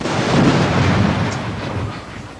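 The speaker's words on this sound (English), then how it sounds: "The Army has other resources, such as artillery firing under the supervision of American advisors." Army artillery fires in a 1983 combat zone, a heavy, broadband rumbling roar that swells and slowly fades, loud and distant-sounding with no distinct individual shots.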